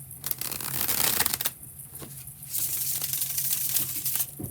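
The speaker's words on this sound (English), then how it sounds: "Bridge shuffle." Tarot cards riffled together in a bridge shuffle, crisp rapid fluttering bursts repeating several times at close range with brief pauses between, no talk.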